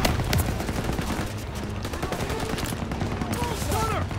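Dense Call of Duty: WWII battlefield gunfire during Operation Cobra, rapid overlapping rifle and machine-gun bursts layered into a continuous loud fusillade, with shouted voices mixed underneath.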